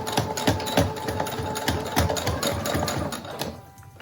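A sewing machine stitches along the edge of a homemade fabric face mask with a filter pocket, running in a steady rapid rhythmic patter of needle strokes, close and continuous, with a brief easing near the end.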